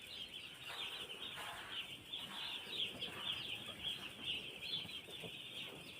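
A large flock of chicks in a poultry brooding farm holding about 16,000 birds, peeping continuously in a dense, shrill chorus that stays steady throughout, with no talk.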